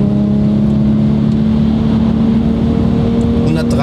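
An Audi RS4 engine accelerates toward 100 km/h, a loud, steady droning hum with a strong constant tone heard from inside the car, holding level over the full stretch.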